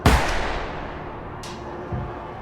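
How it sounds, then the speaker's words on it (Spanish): A second pistol gunshot fired at close range during an assassination attempt on a political candidate, heard as a sharp loud crack followed by a lingering reverberant tail, with another faint impact thump near the end. "Se escucha un segundo disparo."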